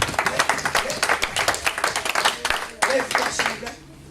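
A church congregation claps during a Sunday service, a loud, uneven burst of many hands close by that fades toward the end, with voices mixed in.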